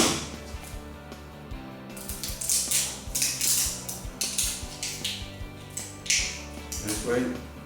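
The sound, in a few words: utility cutter cutting plastic off windsurfing sail batten tip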